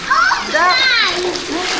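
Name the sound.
water splashing from a toy water pump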